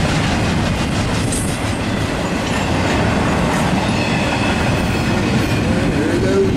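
A Norfolk Southern 212 intermodal freight train of stack cars and piggyback trailers rolls past near Magnolia, its wheels giving a loud continuous rumble and clatter over the rails with faint squeals.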